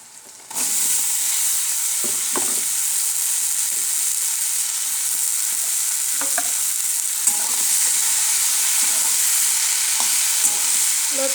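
Taro stolons (kochur loti) hit hot oil with fried onion and garlic, breaking into a sudden loud sizzle that hisses steadily while a spatula scrapes and stirs the pan at intervals.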